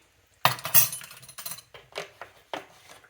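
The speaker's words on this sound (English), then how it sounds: "I'm just going to stir that up." Heavy cream being stirred in a pan for a shrimp and crab burger sauce, with a string of clinking utensil-on-metal strikes that start loud and grow lighter and more spaced out, all with no talking.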